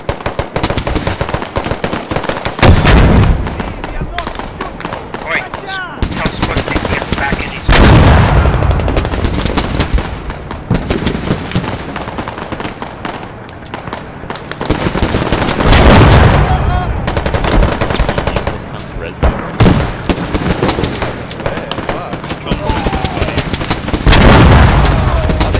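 Tank cannon firing in the military video game Squad, with several heavy booming blasts spread across a dense, loud battlefield din of gunfire and explosions, and voices talking at times.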